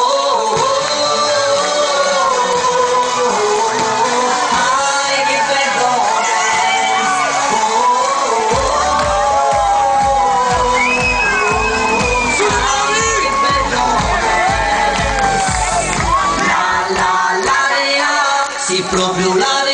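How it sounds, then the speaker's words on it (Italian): Live crowd at a Palermo-style music show cheers and whoops loudly for the performer's introduction, a dense continuous roar with shouts over music throughout. "Un applauso!"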